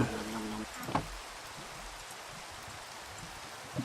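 Steady rainfall in the Minecraft game, a soft continuous hiss of falling rain with a faint low thump near the start, heard alone without talk.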